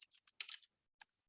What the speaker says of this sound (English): So again, I'm just typing,